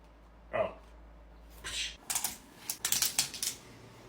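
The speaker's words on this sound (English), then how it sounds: "the keyboard feels decent to type on" Keys clatter on a cheap generic Windows laptop, beginning with one lone tap and then a quick uneven run of close clicks, with a low hum fading out partway through.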